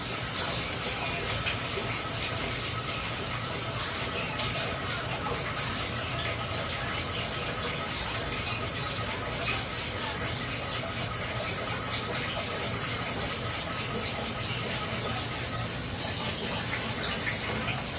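Gravy liquid pours steadily into a pan with a continuous splashing gush, close by, running for a long stretch with faint background noise.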